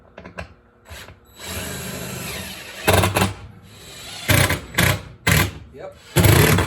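Power drill driving screws during removal of a basement window, with several loud, close whirring bursts separated by pauses, and a voice speaking between them.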